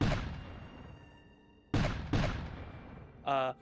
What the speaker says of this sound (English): Thank you, well-placed cannon sounds.